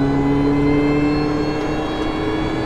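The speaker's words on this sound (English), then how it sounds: "I'm all in the throttle right now and just doing these amazing turns" Supercharged Mini Cooper S engine pulling hard under full throttle on an autocross-style drive, a loud, steady droning hum with harmonic whine holding constant close to the microphone throughout.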